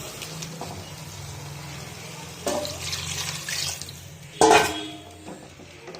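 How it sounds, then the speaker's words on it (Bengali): Water poured into a cooking pot of curry with potatoes after ghee is added: a faint hiss is followed by short splashing pours, with the loudest gush near the end. "এবার জল দিয়ে দেবো"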